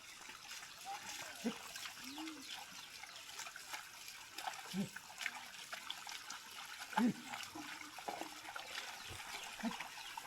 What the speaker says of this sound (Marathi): ह्या माळीतून ह्या माळीत पाणी येत आहे.